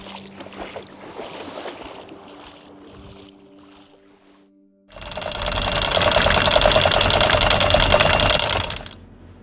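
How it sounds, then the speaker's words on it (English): A boat engine starts partway through and settles into a loud, steady, rumbling idle after a quieter stretch of background noise. "just fired the boat up"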